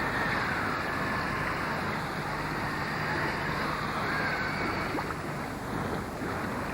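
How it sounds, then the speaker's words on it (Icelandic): Rushing water from a rapidly rising river in an animated Icelandic-dubbed Barbapapa episode, a steady broadband churn with wind, continuous and fairly close, with no voices heard. "Áin er hröðum vexti og hún flýtur yfir eina."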